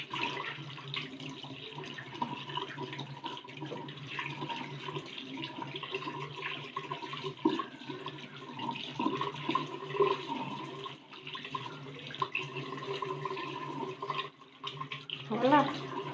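Fresh ginger rinsed under a running kitchen tap, a steady close stream of water splashing into a sink for the whole stretch, with small shifts as the root is turned under the flow.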